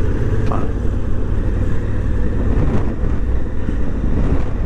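A 2017 Honda Africa Twin motorcycle ridden over rough, broken back roads: a steady low engine drone mixed with heavy wind buffeting on the microphone, continuous and close, with no talking.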